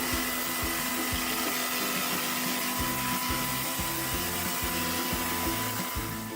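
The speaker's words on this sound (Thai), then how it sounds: "เราจะใช้เครื่องฉีดน้ำไร้สายนะครับ ในการล้าง" A cordless pressure washer sprays water onto an air conditioner's cooling coil and fan. It gives a loud, continuous motor whine and rushing hiss that holds steady close up throughout, with no voices.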